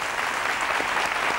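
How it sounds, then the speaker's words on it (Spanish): An audience applauds a local craftsman on a community television program in Villamartín. The clapping is loud, dense and steady throughout, with no talking over it. "le vamos a dar un aplauso"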